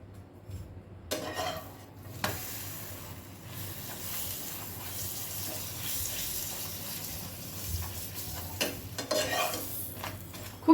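Flatbread fries quietly in butter in a pan, a soft, steady sizzle with a few scrapes and light knocks.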